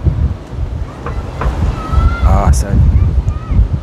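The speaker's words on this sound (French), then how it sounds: "il y a trop de vent en fait. Il y a trop de vent." Strong outdoor wind buffets a phone microphone with a loud, steady low rumble and gusting roar throughout, while a person speaks a few words over it.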